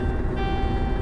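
A low-air-pressure warning buzzer in a truck cab drones as a steady tone over engine rumble. The warning comes from a slight leak in one of the airlines.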